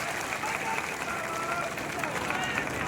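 A crowd at a Janata Dal United political rally applauding and clapping to welcome candidate Bablu Mandal, a steady dense wash of applause and crowd noise without pause.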